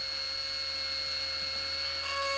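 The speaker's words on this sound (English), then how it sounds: "I'll just drill into a healthy tooth until I reach the pulp." A dental drill bores into a tooth in a 1984 film scene, giving a continuous high, steady whine that holds at an even level without pause.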